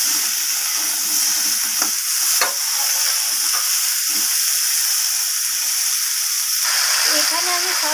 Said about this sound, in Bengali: সবজিগুলো একটু হালকা করে ভাজা ভাজা করে নিয়েছি